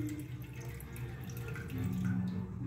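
A toilet tank refills through a fill valve, producing a steady quiet rush of running water that swells slightly toward the end, heard up close.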